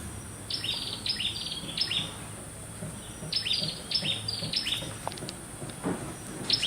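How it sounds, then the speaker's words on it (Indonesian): Birds chirp near a lotus-filled pond on a bamboo-furnished balcony in Bandung, sharp high tweets arriving in small clusters over a faint, steady background hum, with no talking. "Suara burung ya?"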